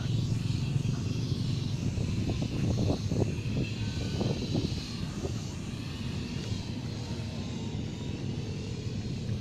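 A drone is flown up at full throttle over a government center in Bacolod City, giving a steady droning engine-like hum and a low rumble that holds evenly throughout, with a brief cluster of knocks partway through.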